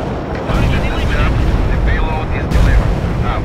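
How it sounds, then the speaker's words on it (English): Heavy artillery strike explosions in the video game World in Conflict, a loud sustained roaring rumble of blasts with rolling booms, with voices speaking over it. "Heavy artillery strike fire."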